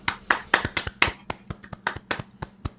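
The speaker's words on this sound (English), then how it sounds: "Round of applause." A group claps in quick scattered bursts for a few seconds, sharp hand claps close by with no voices over them.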